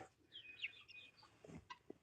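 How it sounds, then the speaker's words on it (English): A few soft, brief clucks from young hens and roosters, quiet and scattered, with a faint higher call among them and no talking. "We got the teenage hens and roosters there."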